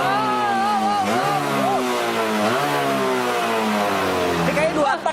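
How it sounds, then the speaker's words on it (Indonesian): An Italian two-stroke motorcycle engine revs loudly up close, its buzzy note rising and falling in repeated throttle blips over a steady idle, with people talking faintly beneath it. "Boleh motornya dinyalain juga"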